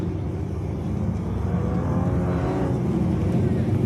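A Porsche Cayman runs an autocross course at a speedway, its engine droning steadily at a distance under the continuous voice of a commentator.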